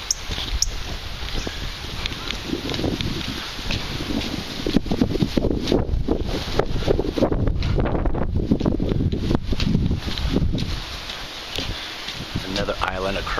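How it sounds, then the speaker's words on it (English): Steady wind buffets the microphone on a breezy beach, forming a constant roaring rumble throughout. "Very breezy."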